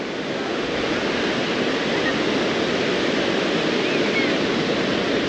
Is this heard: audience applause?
no